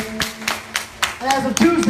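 A church congregation claps in a steady rhythm, sharp close hand claps landing about four times a second, while a voice talks over them.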